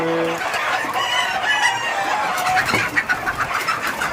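A rooster crows over a steady din of many chickens clucking close by on a poultry farm, busy and continuous like a crowded coop.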